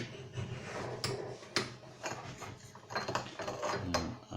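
A bench vise is tightened to crush a thin aluminium pipe, giving irregular creaks, ratcheting clicks and metallic squeaks at close range with no talking.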